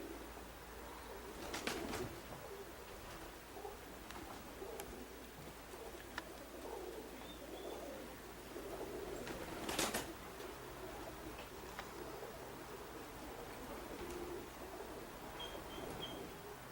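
Young high-flying roller pigeons coo softly in a loft, with faint intermittent calls and a couple of brief flutters against a quiet background.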